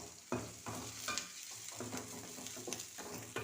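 Chopped tomatoes fry in a pan with a soft continuous sizzle, broken by repeated scraping strokes of a stirring spoon at an uneven rhythm, close but fairly quiet, with no voices.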